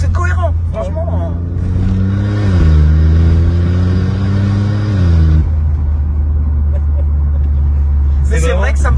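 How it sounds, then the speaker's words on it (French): Car engine revving hard and then dropping on a downshift, loud and close, with a sweeping rise and fall in pitch, crackles and pops at the end, and people talking over it. "C'est fou comment ça pétarade."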